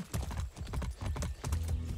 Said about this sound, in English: No, I have another horse here.